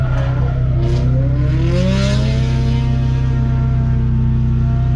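A turbocharged Scion FRS sports car with a built motor and turbo kit revs hard and loud, a deep droning exhaust with rising and falling engine tones held throughout, very close and dominant, with no voices.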